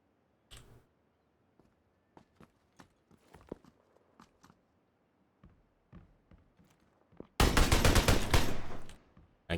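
Gunfire in PlayerUnknown's Battlegrounds: scattered single shots and sharp reports ring out over several seconds, then a loud, sustained burst of rapid automatic fire near the end.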